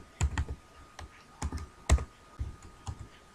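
Keys on a computer keyboard are tapped while typing Python code, giving close, crisp clacks in small irregular clusters of two or three strokes with brief pauses between.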